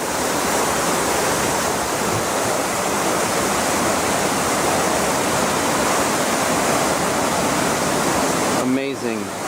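A colored water fountain splashes at Plaza de España, a loud, continuous rushing spray filling the space nearby, with a brief disturbance near the end.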